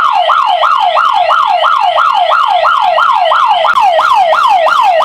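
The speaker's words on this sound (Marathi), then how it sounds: "अशा प्रकारे तुमचा फोर्सफुली एंट्री झाल्यानंतर सायरन तर वाजणार" A loud electronic security alarm siren, triggered by forced entry, wails in a rapid, repeating rising-and-falling yelp, steady and close throughout.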